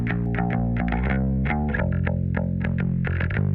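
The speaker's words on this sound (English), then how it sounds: "So I've got a little bit of distortion on this." A bass guitar runs through a distortion effect driven by a boosted Neve EQ midrange honk, playing a continuous line of loud, gritty, sustained notes with crisp plucked attacks.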